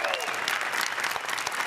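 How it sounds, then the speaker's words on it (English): A crowd at a student technology competition final claps loudly and continuously in a big hall, with a brief whistle or cheer near the start and a dense, steady wash of applause throughout. "Round of applause."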